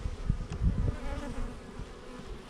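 Honey bees swarming over an opened hive full of brood and honey frames, a close, steady buzzing hum with low thumps of handling and no speech.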